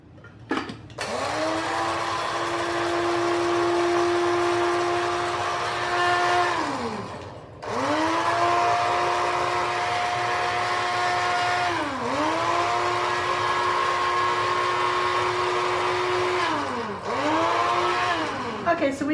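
A blender grinds nuts and seeds for homemade mole sauce, its motor whining loudly in several long bursts separated by brief stops, with no talk over it.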